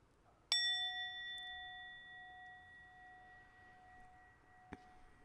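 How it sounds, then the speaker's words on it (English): A single meditation bell is struck once at a conference session, rings clearly and slowly fades into quiet, followed by a soft second tap near the end. "as you hear the bell dissipate, focus on your breath"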